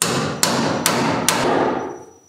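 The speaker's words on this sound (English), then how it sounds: "Hammer. That whole joist is shaking." Three sharp, loud hammer blows about half a second apart as an electrical box is nailed onto a wooden joist during a home wiring job, each strike ringing on through the shaking joist, with no talk.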